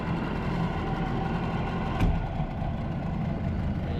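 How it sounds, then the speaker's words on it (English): A dinghy outboard engine idles at close range, a steady low rumbling drone with one brief louder knock midway and no talking. "we want the engine to be idling"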